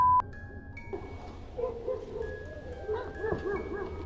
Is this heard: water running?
no